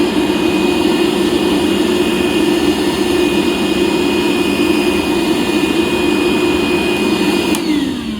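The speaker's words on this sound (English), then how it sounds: "I'm going to hit it with the vacuum while I work" A vacuum cleaner whines steadily and loudly throughout during drilling work on a muffler bolt hole, with a constant motor drone that cuts off sharply near the end.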